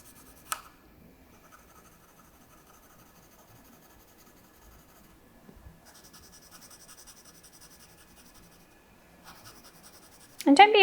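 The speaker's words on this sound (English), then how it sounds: "rotate my piece of paper and colour in the lines that I have left" Felt pen or marker colouring in lines on a sheet of paper during a geometric abstract art activity, with soft intermittent scratchy strokes, quiet and close, and a brief louder burst near the end.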